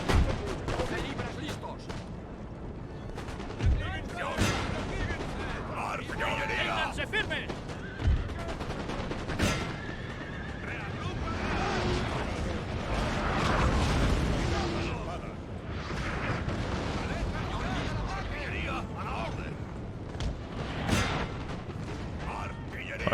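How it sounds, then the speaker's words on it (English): Cannon and artillery fire on the battlefield in Napoleon: Total War, booming shots going off at irregular intervals with rumbling explosions and battle noise between them, while someone talks over it. "let's stop the cannons from firing."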